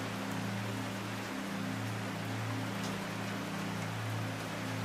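Soft, steady rain patters on a roof at night, a faint, even hiss of drops with a low hum beneath and no other sounds.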